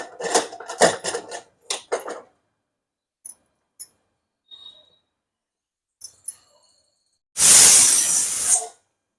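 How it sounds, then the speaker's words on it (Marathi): A pressure cooker on medium gas lets out one loud, hissing steam whistle lasting just over a second near the end, after quiet stretches with brief voice fragments and small kitchen clicks. "एक सिटी झाली"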